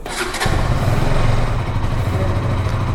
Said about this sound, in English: now let's just hear the all new KTM RC200's exhaust note